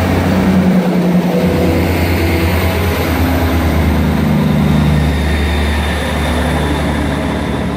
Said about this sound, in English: I just got on this 158798 from Salisbury to Westbury